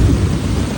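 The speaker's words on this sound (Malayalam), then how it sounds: "ഇടിയൊക്കെ മടങ്ങുന്നുണ്ടോ കേട്ടോ." Deep thunder rumbles through steady rain beside a house with a garden and pond, one brief, loud, continuous roll with no voices.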